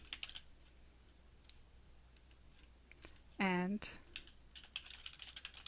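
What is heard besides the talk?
typing a search on a computer keyboard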